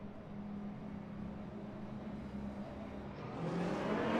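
GT3 race cars start a race at the Sarthe circuit in Le Mans Ultimate, a dense layered engine drone of many cars that swells louder as they accelerate toward the end.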